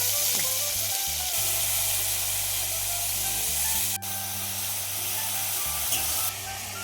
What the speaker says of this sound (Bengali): কড়াইতে তেল দিয়ে আলুটা ভাজা করে নেব।